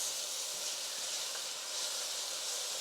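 Vegetables sauté in a pot for chicken soup, caldo de pollo, making a soft, even, continuous hiss that holds steady at low level throughout, with no talk.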